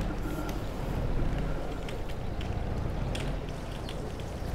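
A steady broadband rush of water and a running pump fill a quad bike's water tanker in Farming Simulator 22, a constant, even wash of noise with faint clicks, without talk.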